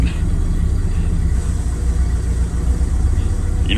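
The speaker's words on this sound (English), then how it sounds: "I'm gonna let the clutch out, and you're gonna hear the engine bog down." A 1930 Ford Model A engine in below-zero cold with thick oil, loading and bogging down as the clutch is let out: a loud, close, low rumbling drone that stays heavy and labored throughout.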